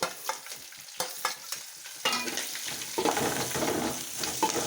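Chopped ginger, garlic and green chilli tossed into onion browning in a pan for a Kannur-style country chicken curry, with a crackling sizzle and a few sharp stirring scrapes up close.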